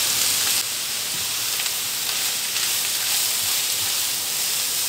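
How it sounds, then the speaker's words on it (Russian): Grated carrots fry in sunflower oil in a skillet on a stovetop, giving off a steady, even sizzling hiss with no one speaking. "все, морковочка жарится"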